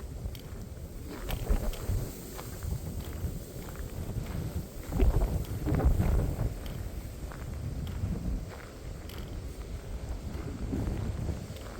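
Strong wind over 30 mph buffets the open ground at Hallaway Hill in Maplewood State Park, a continuous low roaring rumble with gusty surges that swell loudest midway, close and steady with no voices.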